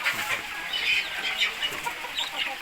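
Chickens and chicks cluck and peep continuously at a farm during rain, a busy overlapping chatter of birds over a steady wet hiss, with no one talking.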